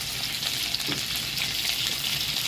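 Steady, continuous sizzling of sweet potato frying in hot oil, a dense crackling hiss with small pops, close by and with no talking.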